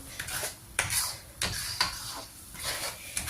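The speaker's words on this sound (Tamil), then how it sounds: "இந்த ஏலக்காயை இதில் போடுவேன் போட்டுட்டு நல்லா மிக்ஸ் பண்ணி கொடுப்போம்" A spoon stirs thick dodol batter of finger millet flour with cardamom in a pan, making a regular close scraping and swishing rhythm about twice a second, with no talking.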